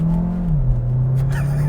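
2022 Hyundai Tucson hybrid accelerating hard in sport mode with paddle shifting, a loud, steady engine drone whose pitch drops once partway through as if at a gear change, with no talk over it.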